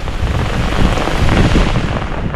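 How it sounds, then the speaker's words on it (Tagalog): Heavy rain pours down during a thunderstorm, a loud, steady, dense roar with rumbling low end throughout, no voices. "Naabutan pa ng bagyo."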